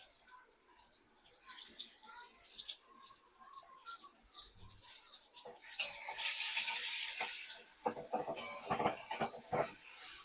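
Taro leaf paste hits hot oil with crushed garlic and nigella seeds, setting off a loud broadband sizzle about midway that continues with stirring clatter to the end, following quieter kitchen noise.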